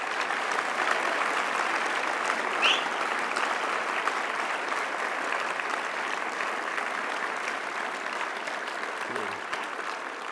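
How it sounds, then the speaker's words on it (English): An audience applauds astronauts at an Expedition 56-57 crew debrief event, sustained, even clapping that fills the whole stretch at a steady level. "Another round of applause for all of our awardees tonight."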